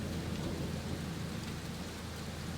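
Heavy rain and a rumbling thunderstorm outside in a horror video game, a steady dense roar of rainfall with low thunder underneath, continuous and fairly loud with no voices.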